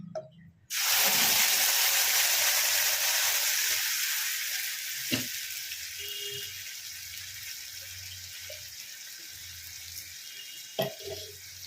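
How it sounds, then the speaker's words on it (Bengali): Ground cumin seeds and a spice masala hit hot oil in a pan while cooking paneer dalna, bursting into a loud, steady sizzle that slowly settles into softer frying with a few clinks, no talking. "এখানে জিরে গরম হয়ে গেছে, মানে ছক লেগে গেছে। এর মধ্যে আমি এই মশলাটা দিয়ে দেবো।"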